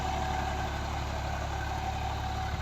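Tractor engine running steadily while pulling a large cotton planter during a field test, a constant low rumble with an even drone and no speech.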